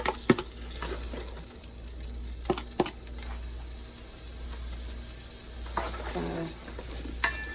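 Chopped vegetables for homemade chili sizzle loudly in a hot pan while being stirred, a steady close hiss broken by a few scraping knocks of the spoon, with a brief spoken word.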